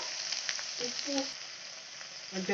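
A palak rice mixture cooks in a pan as a soft, steady sizzle with a few faint clicks of stirring, quiet and close, with a voice briefly audible.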